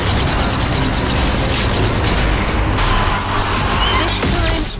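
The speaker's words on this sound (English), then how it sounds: "Some grenade throwing." Grenade blasts in the zombie shooter Zombie Army 4 boom through dense, loud gameplay noise, with heavy low rumbles and sharp bursts layered over constant action.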